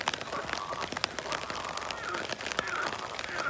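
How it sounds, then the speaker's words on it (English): Rain falling on a homemade ultralight two-person duplex tent at night, a dense, steady patter of drops close on the fabric with scattered sharper taps. "It's been raining all day today."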